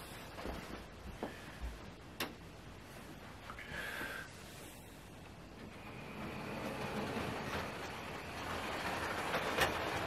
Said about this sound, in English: there's another locomotive I'd like you to actually see running around the track